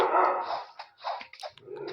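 A neighbour's dog barks in a run of sharp, fairly close yips and barks, with short gaps between bursts and no talk over them.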